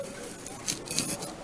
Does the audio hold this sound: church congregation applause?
no